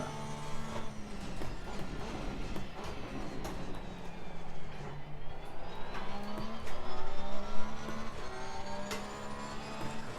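A Porsche race car in a sim racing game drives continuously with a steady engine drone that rises and falls through gear changes, accompanied by tire noise and occasional squeals, loud and close throughout with no talking.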